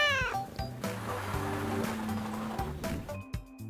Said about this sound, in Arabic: فجأة لاحظوا قطة فقيرة على جنب الطريق.